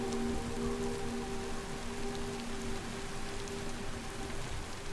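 Steady rain falls throughout a scene in the video game Death Stranding 2, a dense continuous hiss of drops on surfaces with a few faint tonal hums running beneath it.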